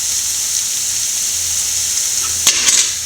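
Broccoli and egg thoran frying in a pan, a steady close sizzle with a few brief scraping stir sounds near the end and no one talking.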